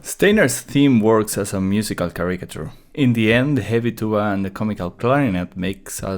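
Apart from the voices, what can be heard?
None of the usual background noises is heard.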